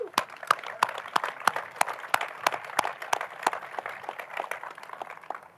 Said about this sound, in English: just before I turn it back to Dwayne, let's just one more round of applause